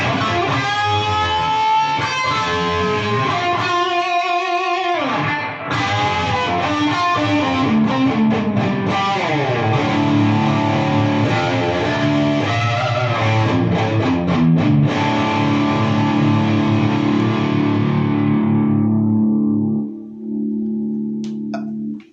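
A distorted electric guitar with a DiMarzio Tone Zone pickup, played through a Bugera 333XL Infinium 120W amp, plays ringing chords and single notes with a reverb tail, sustaining loudly before fading out near the end.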